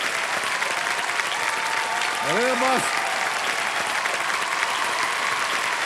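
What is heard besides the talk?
studio audience applause on a TV quiz show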